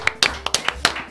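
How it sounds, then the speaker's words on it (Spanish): Scattered individual hand claps from a small audience welcoming Fede Otermin, president of the Buenos Aires Province Chamber of Deputies, about seven sharp claps at uneven intervals, close and fairly loud. "se preparan nuestras palmas para recibir con un fuerte aplauso a Fedo Termin"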